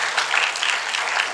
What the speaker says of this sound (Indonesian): Ayo tepuk tangan bagi dia, saudara.